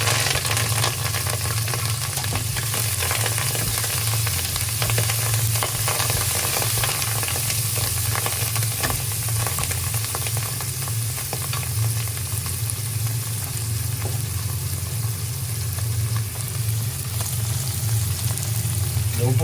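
Leaves such as parsley frying in hot oil for a Sri Lankan black mussel dish, a steady dense sizzle with a low rumble underneath, continuous and close throughout.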